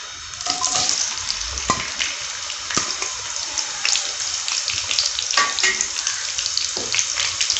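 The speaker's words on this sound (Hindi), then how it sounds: "ऑयल हमारा जो है वो गर्म हो चुका है, ठीक है। अब हम इसमें डाल देंगे प्याज" Onions go into hot oil for a mixed vegetable curry and sizzle steadily, with some stirring and scraping noises. The frying is close and fairly loud.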